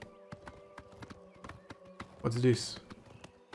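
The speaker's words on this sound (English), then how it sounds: "Is that a horse? It's a horse." Horse hooves clip-clopping in Oblivion Remastered: evenly spaced, crisp hoof knocks at a steady walking pace, fairly quiet, while someone speaks briefly partway through.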